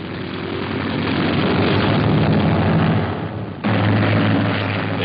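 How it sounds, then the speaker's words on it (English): A semi-obsolete Hellcat drone plane carrying a 1-ton bomb load and a television camera is catapulted from an aircraft carrier, giving a steady loud propeller-engine roar with a sudden shift and a fresh surge near the end. "The robot missile is catapulted aloft. It is a semi-obsolete Hellcat carrying a 1-ton bomb load and a television camera instead of a pilot."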